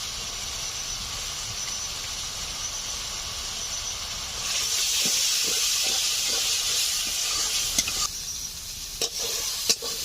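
Ground spices with salt, cumin and turmeric sautéing in a pan for a rohu fish and poppy-seed curry, a steady sizzling hiss that swells louder midway, with occasional scrapes and clinks of stirring.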